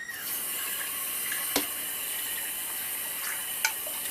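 Tap water runs steadily into a sink while mixed beans are rinsed, a constant hissing stream broken by a couple of sharp clinks.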